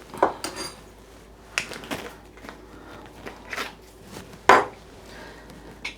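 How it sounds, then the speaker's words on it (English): Scattered light metallic clinks and taps of teaspoons knocking against containers while ground coriander is measured into a Thermomix, close and intermittent with quiet gaps between. "Next, 3 teaspoons of ground coriander."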